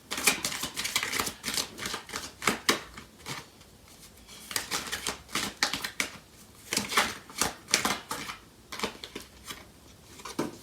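Tarot cards being shuffled and drawn from a deck during a love reading, a close series of crisp riffling and flicking bursts in uneven clusters, with no talking.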